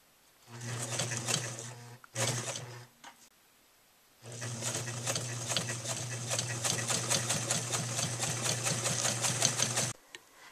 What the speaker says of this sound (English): just swing your pillow top around, put your presser foot back down, and then just continue sewing down the next side